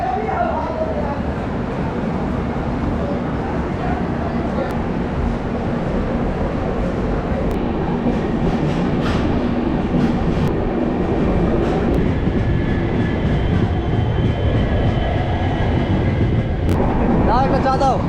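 A passenger train running from Guwahati to Howrah after leaving a junction gives a constant loud rolling rumble with faint rail clatter, and voices talk quietly inside the coach now and then.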